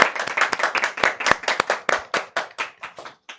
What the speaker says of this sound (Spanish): les pido un fuerte aplauso para el maestro Mario Flores.